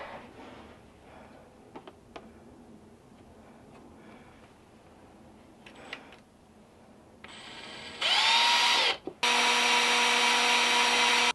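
A power drill whines up in short, slow bursts, then runs steady and loud near the end, its pitch dipping under load as it drills into an IKEA ÅKERBÄR mini greenhouse.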